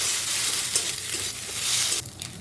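Egg fries in a pan while being broken into chunky pieces, giving a close, steady sizzle with stirring scrapes that drop away sharply in the final moments.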